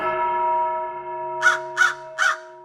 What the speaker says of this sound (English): The Raven has crowed.